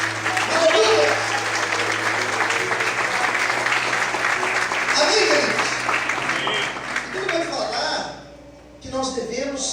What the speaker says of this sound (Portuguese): Todos podem aplaudir e glorificar a Deus.